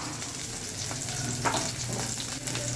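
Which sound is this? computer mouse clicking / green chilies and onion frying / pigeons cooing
green chilies and onion frying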